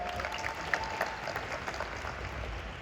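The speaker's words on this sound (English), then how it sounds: "Give her a round of applause, everyone." An audience applauds in a room, a steady wash of many hands clapping at moderate loudness with a few sharper claps standing out, continuing evenly throughout.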